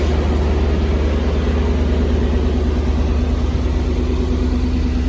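A 2020 Mercedes G550 SUV with a V8 engine idling nearby, a steady low rumble with an even hum that stays constant throughout.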